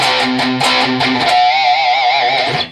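Distorted electric guitar playing chugging palm-muted power chords in a metal riff, a bouncy rhythmic pattern of short stabs followed by a sustained ringing chord, loud and close.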